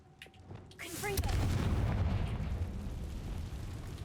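A Confringo blasting spell goes off in the Hogwarts Legacy video game, a deep rumbling boom that swells after a brief spell-cast whoosh and lingers as a long low roar.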